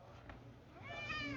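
A house cat gives one faint, drawn-out meow near the end of a quiet indoor stretch during a tornado warning, with low background hum.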